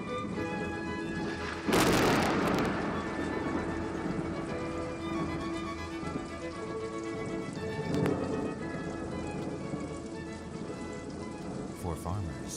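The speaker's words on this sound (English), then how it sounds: "The light rains awaken the young grass as thunder heralds the dawn of spring." Light spring rain patters steadily while one loud thunder crack bursts early and then rumbles away, with a voice speaking over the scene.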